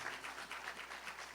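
Applause from a church congregation, brief and soft, with a few rhythmic bursts of clapping heard at a distance.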